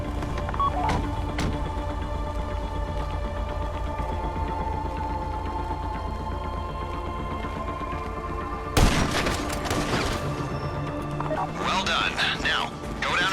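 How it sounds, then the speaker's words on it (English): Gunfire rings out during a GTA Online prison break heist, a sudden loud burst of shots that cuts through a busy game soundscape while someone talks throughout. "take the shots at the exact same time"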